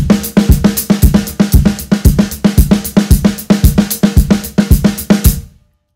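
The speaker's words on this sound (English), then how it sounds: "now the snare drum is more pronounced, so you're hearing more of the 8th note than the 16th in between" A drum kit plays a steady 16th-note groove with the snare accented, giving loud, evenly spaced hits for about five seconds before the sound cuts off.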